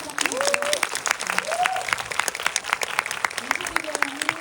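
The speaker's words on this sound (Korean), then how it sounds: "네, 박수 크게 한번 부탁드립니다." Film festival audience at the Busan International Film Festival applauding guests onto the stage, distinct crisp claps in an irregular crowd rhythm while an amplified host's voice carries over the top.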